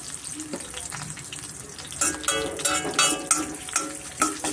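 Urad dal, curry leaves, turmeric and asafoetida crackle and sizzle in hot oil in a pan, a steady fry with louder stirring bursts picking up midway, close and without talk.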